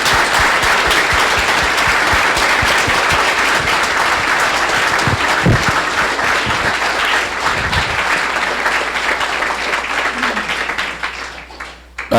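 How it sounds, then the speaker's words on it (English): Sustained audience applause for policemen at a Tower Grove South neighborhood meeting, loud dense clapping lasting around ten seconds with a few louder nearby claps, then tapering off toward the end. "a round of applause for my policemen"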